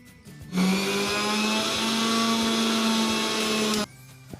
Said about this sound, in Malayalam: ഇനി നമുക്ക് മല്ലിയില നന്നായിട്ട് മിക്സ് ചെയ്തെടുക്കാം കേട്ടോ മിക്സിയിൽ